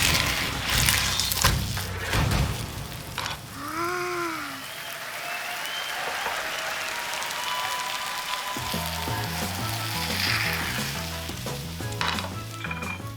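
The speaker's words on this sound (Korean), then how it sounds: "자, 기름을 바깥쪽에 한 번 더 둘러주고 잘 구워주시면 됩니다." A potato pancake sizzles and crackles in a pan of hot oil. The frying hiss is steady and fairly close, with a few clatters from the pan or utensils.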